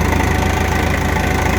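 Tractor engine chugging steadily during a slow ride across a property, a loud, close, continuous mid-low drone with a fast regular pulsing throb and no voices over it.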